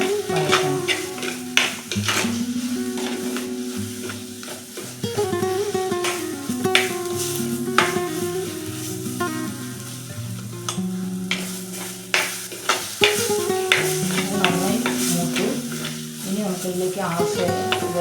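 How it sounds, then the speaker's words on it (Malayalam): Masala sautés in a pan for a spicy sardine curry with kudampuli, a steady sizzle under repeated scraping and stirring strokes of a spoon against the pan, close and busy throughout, with a voice speaking at times. "അതിൻ്റെ ആ പച്ചമണം പോകുന്നവരെ നന്നായിട്ടൊന്ന് വഴറ്റണം."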